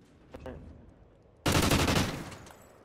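Video game gunfire from an MTAR rifle fitted with a flash suppressor: a sudden loud, dense burst of rapid shots that fades out, preceded by faint distant pops.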